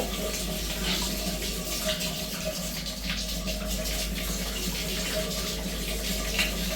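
A water tap runs steadily at night while someone washes their face at a sink, producing a faint, continuous hiss that carries on without a break.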